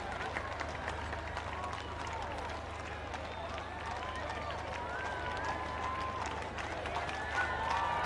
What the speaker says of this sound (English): The crowd's already voicing their enjoyment and appreciation.